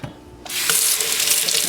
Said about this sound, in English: let's go ahead and rinse that off to make sure all the shells are off